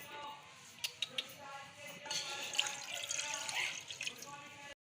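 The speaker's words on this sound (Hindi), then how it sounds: "2 गिलास पानी हम ऐड करेंगे इसकी चाशनी" Water poured into a pot of crushed jaggery to make syrup, a steady close splashing and trickling pour with a few drips, lasting a few seconds.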